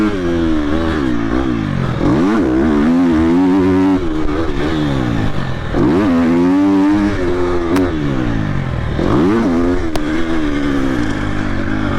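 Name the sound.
Triumph TF250-X motorcycle riding, engine revving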